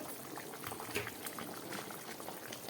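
Fish curry broth bubbles at a rolling boil in a pan, a dense, constant gurgle and pop heard close up with a few louder bursts, no voices over it.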